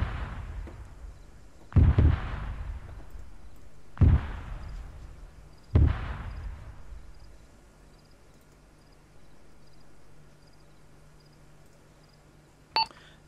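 Mortar rounds impact in a combat setting, with three heavy booming explosions spaced about two seconds apart that each roll off into a long decaying rumble, followed by quiet and a sharp distant pop near the end.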